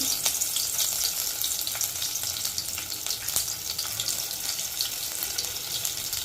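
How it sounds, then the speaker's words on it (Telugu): Tempering for a brinjal and chickpea curry, with mustard seeds and cumin hitting hot oil: a steady, bright, crackling sizzle with scattered pops, moderately loud and continuous, with no voices. "ఇగోండి తాలింపు వేస్తున్నానండి"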